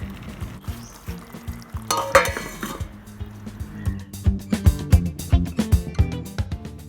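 Chicken masala cooking in a pan, with soft sizzling under a run of sharp metallic clinks and scrapes from a utensil against the pan, growing more rhythmic and louder toward the end.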